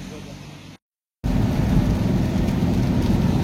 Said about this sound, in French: Il pleut, il fait tout gris.